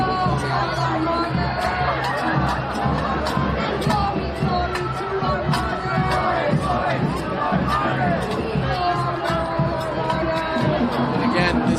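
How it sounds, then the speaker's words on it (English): Dense crowd of tens of thousands of protesters marching down a New York City street at a rally, a steady loud roar of chatter, shouts and cheering filling the whole stretch without a break. "It's very confronting to see tens of thousands of people marching down the street."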